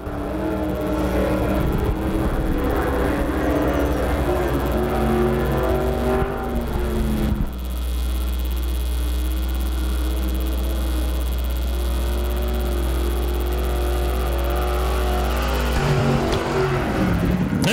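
An IMCA stock car runs a qualifying lap at Arizona Speedway, its engine droning loudly and continuously, shifting pitch as it passes and pulling away, with no talking.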